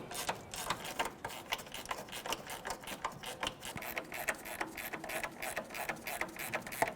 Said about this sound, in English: We can bottom these out with a 13mm wrench.